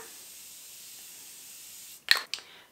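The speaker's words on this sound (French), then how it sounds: "avec l'eau cellulaire, l'eau micellaire, on a un spray d'eau cellulaire" A handheld spray bottle of cellular water facial mist gives two short, close hissing spritzes near the end, after a long stretch of faint background hiss.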